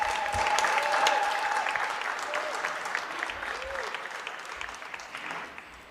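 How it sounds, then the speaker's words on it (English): Crowd applause after the President signs the BELA bill into law, dense clapping that starts strong and gradually fades over several seconds, with a voice briefly audible over it. "Better with a round of applause"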